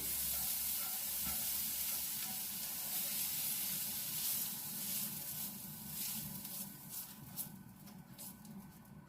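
Mushrooms stirred into fried onions in a pan give a steady, close sizzle with soft scraping and stirring sounds, growing a little more broken and uneven toward the end.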